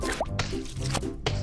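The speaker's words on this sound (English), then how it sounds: "Peppa and George are doing what they love to do most of all, jumping in muddy puddles." Cartoon pigs jump in muddy puddles, making four quick, wet plopping splashes, close and distinct, with no voices.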